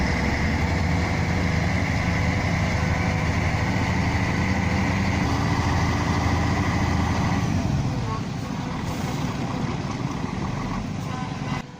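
A bulldozer engine runs in a forest during timber recovery work, a loud, steady diesel drone that holds unbroken for most of the stretch before easing slightly near the end.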